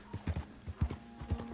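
Horse hooves clip-clop in Red Dead Redemption 2 Online, a quick uneven run of hollow thuds close by at a steady riding pace.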